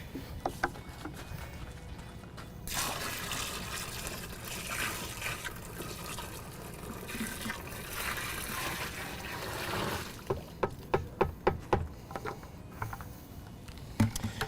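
Liquid polymer street paint pours and trickles into a bucket in a steady wet stream, followed near the end by a series of sharp knocks and clatters from the container.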